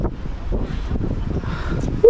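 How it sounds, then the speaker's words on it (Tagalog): Strong mountain wind buffets the microphone in a steady low rumble, with voices faintly mixed in and a brief high tone near the end. "Sobrang lakas ng hangin."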